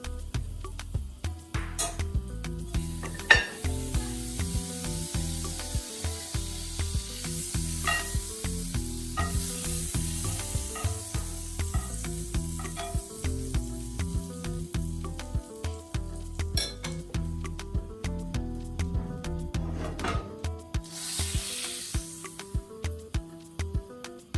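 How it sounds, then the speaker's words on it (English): Butter sizzles and fries in a cast iron pan over medium heat, a steady close crackle lasting throughout with occasional clinks and scrapes of a utensil. "I'll add butter in the pan"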